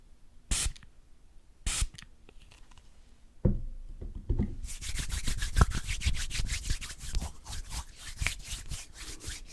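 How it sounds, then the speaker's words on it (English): A few short sprays of lavender hand sanitizer hiss out, followed by a long stretch of brisk, rhythmic hand rubbing and swishing close by, with no talking. "It is a lavender hand sanitizer, and I'm going to use that to clean my hands off"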